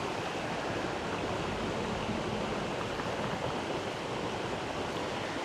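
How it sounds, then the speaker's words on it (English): A small creek flows steadily in Northville, Michigan, making an even, continuous wash of water that stays close and moderately loud throughout, with no voices. "we got a beautiful view of the little creek over here"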